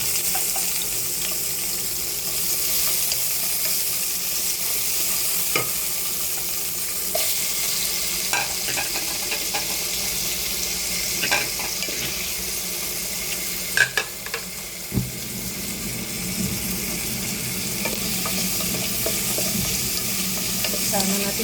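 Garlic sizzles steadily in a hot pan throughout for a native chicken and banana dish, with scattered clinks and scrapes of stirring and a brief tap of water running midway; no talking.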